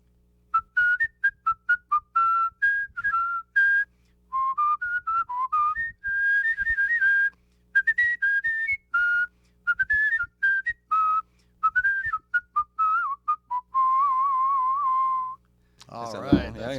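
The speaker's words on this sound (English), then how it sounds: "Would you whistle a song for us?" A person whistles a melody, clear and close, in a long run of short bright phrases with brief pauses, ending with a burst of noise.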